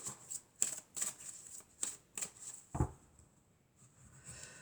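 A deck of oracle cards shuffled by hand, a burst of crisp riffling flicks repeating in a quick rhythm and then a soft thump as the deck settles, close and fairly quiet with no talking.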